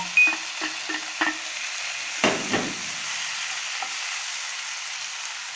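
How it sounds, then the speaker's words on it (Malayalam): Tomatoes frying in a pan for egg rice, stirred with several sharp scraping strokes early on and a couple of louder clatters midway over a continuous close sizzle. "തക്കാളി ചേർത്തിട്ട് ശരിക്കും ഇളക്കി കൊടുക്കുക."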